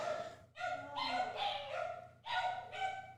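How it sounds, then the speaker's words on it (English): Several dogs bark and yelp excitedly in a house, loud bursts in quick succession with short pauses between them, carrying on in the background behind a podcast conversation. "because you can probably hear some dogs in the background"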